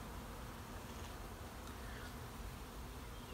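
Honeybees buzzing at sunny polyhive colonies, a steady dense hum of many insects at moderate distance that runs unbroken and faint throughout, with no talk.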